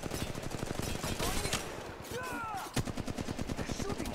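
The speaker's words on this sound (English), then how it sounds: "They're shooting at me." Rapid automatic gunfire in the Apex Legends battle royale game, dense rhythmic bursts nearly continuous, briefly pausing mid-clip amid game effects before resuming, loud and close.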